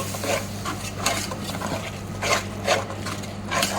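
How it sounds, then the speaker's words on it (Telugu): A spoon stirs a tomato puree mixture in a pot, with rhythmic scraping and clinking strokes recurring every second or so over a low, steady background hum, heard up close without talk. "నేను దీన్ని కూడా బాగా కలుపుకుందాము ఇలా మిక్స్ చేసుకోవాలి"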